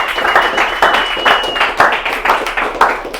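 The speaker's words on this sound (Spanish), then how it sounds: "fuerte aplauso para David" An audience applauds a speaker at a motivational talk with steady, energetic clapping that rises and falls in bursts, and voices are heard over it.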